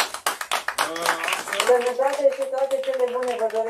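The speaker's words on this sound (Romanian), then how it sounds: "să o aplaudăm încă o dată" Applause from an audience at a fundraising event for children with disabilities, starting as scattered claps that quickly fade under someone speaking into a microphone.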